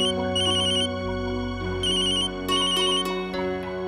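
A telephone ringtone plays alone, a bright repeating electronic melody with several bursts of tones over about four seconds, close and fairly loud, in a home setting.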